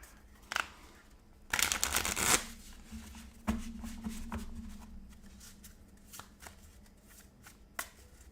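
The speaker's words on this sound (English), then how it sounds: "but I will shuffle it again for you guys." A deck of game cards is shuffled close by on a tabletop during a solo board game session, with a long riffle burst followed by softer scattered card taps and slides.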